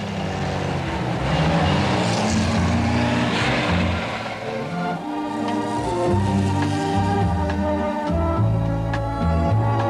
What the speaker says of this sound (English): Driving the Miura today is evocative, nostalgic.